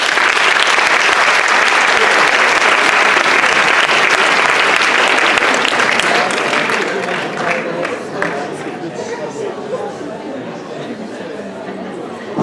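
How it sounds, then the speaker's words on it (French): Loud audience applause at a hypnosis show during a Miss Villeurbanne election, dense clapping that fades after several seconds into crowd chatter and scattered claps, with voices mixed in. "On les applaudit bien fort."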